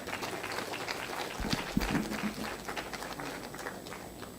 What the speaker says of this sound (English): Please join me welcome with a round of applause,